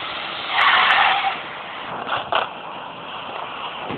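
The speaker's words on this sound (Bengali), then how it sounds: "জলের ভিতরে বাইক চালাবো," A motorbike engine in the Free Fire video game revs and whines loudly at first, then settles to a steady drone, with a couple of brief tire-skid squeals and no talk.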